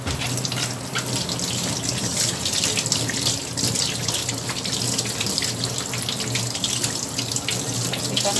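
Steady running tap water over peeled sweet corn being washed in a sink, a continuous close splashing rush that holds level from start to finish with no voices.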